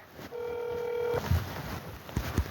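A telephone gives a single steady, buzzy tone that lasts about a second. Faint clicks and handling noise follow, with no talk over it.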